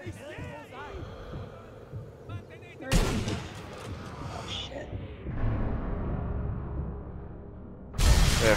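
Gunshot fired at a wall in Sniper Elite 3: a sharp, loud report with a ringing tail, followed by a second abrupt blast near the end, over low game ambience.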